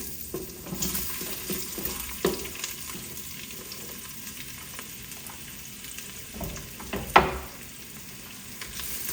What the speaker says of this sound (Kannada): ಈರುಳ್ಳಿ ಒಂದು ಸ್ವಲ್ಪ ಅದೇ ಗೋಲ್ಡನ್ ಬ್ರೌನ್ ಕಲರ್ ಬರ್ತಾವಲ್ಲ ಅಲ್ಲಿ ತನಕ ಚೆನ್ನಾಗಿ ಹುರ್ಕೊಂಬಿಟ್ಟು